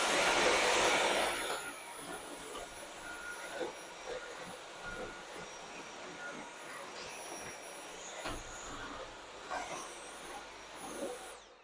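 A vacuum cleaner hums steadily at low level across the clip in a home where a dog that attacks cleaning tools is being trained, the motor starting louder, then settling into a constant drone with faint bumps.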